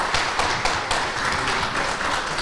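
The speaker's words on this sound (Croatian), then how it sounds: "ja vas molim da ih nagradite jednim aplauzom" An audience applauds the organisers at a public panel discussion, a steady wash of many hands clapping throughout at moderate loudness.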